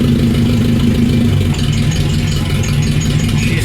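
Car engine fitted with SU carburetors idling loudly through a faulty muffler, a steady close rumble with a slight rattle and no pauses, heard alone.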